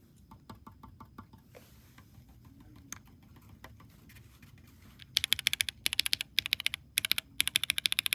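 Typing on a custom mechanical keyboard built with Poron foam: soft, sparse keystrokes at first, then a fast, crisp run of close, bright clacks in the last few seconds, with no voices.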